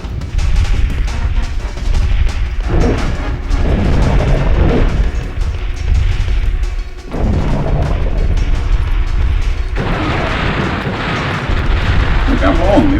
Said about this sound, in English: and I'll blow them up with rockets